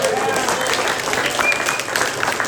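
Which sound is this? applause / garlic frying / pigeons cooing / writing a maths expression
applause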